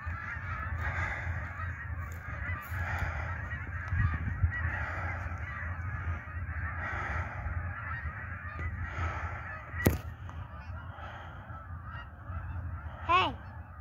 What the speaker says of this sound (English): Lots and lots of geese.